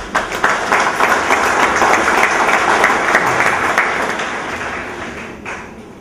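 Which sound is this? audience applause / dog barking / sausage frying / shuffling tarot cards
audience applause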